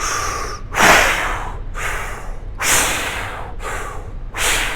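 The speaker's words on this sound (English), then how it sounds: "just really in through the mouth, out through the mouth, really trying to push that air in as much control as you possibly can" Forceful, controlled breaths pushed in and out through the mouth, several loud, hissing cycles in a steady rhythm, close up with no speech.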